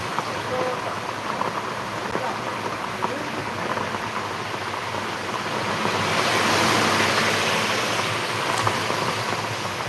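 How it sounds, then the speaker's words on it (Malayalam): Dense, steady hiss of heavy rain pouring continuously, loud and close, swelling slightly midway with no pauses. "ഈ മഴയത്ത് ആ ഒരേ മഴയല്ലേ"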